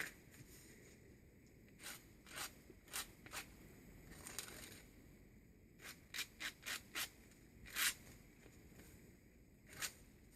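Natural sand being smeared and rubbed across a mixed media journal cover, producing soft gritty scraping strokes in short bursts, several in quick succession, close and fairly quiet with no talking.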